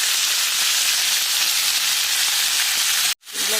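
Potatoes, tomato and green chilli fry in hot oil in a pan with a loud, steady, close sizzle and hiss, cut off by a brief silence near the end before the sizzle returns.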